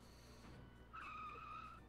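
A car skids in the Goofy's Fun House video game: a tonal tire squeal cuts in about halfway through and holds steady and loud to the end over a low engine hum, with no talk.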